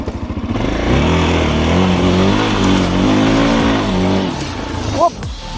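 An enduro motorcycle on bald tyres roars loudly and steadily up a dusty hill climb, its engine revving close by with a sustained, slightly wavering drone that drops off near the end.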